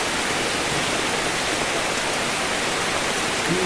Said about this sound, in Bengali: কত সুন্দর করে বৃষ্টি হইতে আছে দেখেন না।